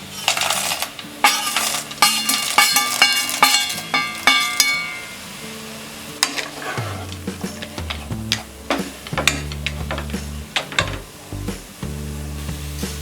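Dry roasted peanuts are tipped into soaked poha and stirred, giving a burst of small hard clinking rattles, then softer scraping and tapping of a spoon against the pan, close and without talk.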